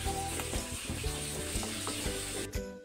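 Strawberry jam with cinnamon powder being stirred in a pan on the stove, a steady close sizzling bubble with soft scraping strokes running throughout, no talking.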